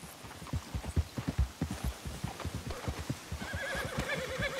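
A horse in the Red Dead Redemption 2 video game clops along at a steady walking rhythm, its hooves close and distinct, with a neigh or whinny rising near the end.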